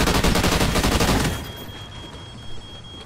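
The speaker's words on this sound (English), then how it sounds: "Assholes shooting at me." Gunfire in the shooter game Call of Duty: Ghosts, a loud rapid burst of automatic shots for over a second that cuts off abruptly, leaving a faint tonal hum and low ambience.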